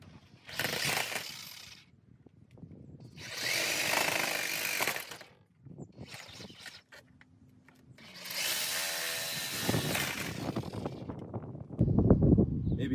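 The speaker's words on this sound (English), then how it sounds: "I'm going to be using a sawzall" A reciprocating saw cutting through PVC pipe for a chicken feeder, with several separate bursts of harsh buzzing at close range, broken by short pauses and handling noise.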